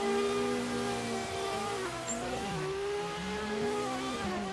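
A Toyota Supra race car engine is held against the rev limiter, a loud steady high-pitched whine that wavers and stutters as it bounces off the limit, with other engine drones mixed in close by.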